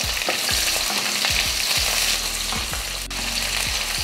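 Garlic cloves and large onions fry loudly in a hot pan with a steady, dense sizzle, broken by repeated scraping stirs against the pan, with no voices.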